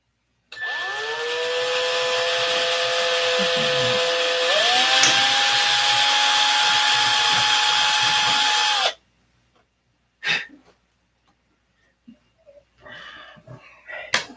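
Power drill enlarging and shifting a hole to clear a muffler on a Continental: a loud whining drill run of about eight seconds with pitch shifts, then stops, followed by a few faint knocks.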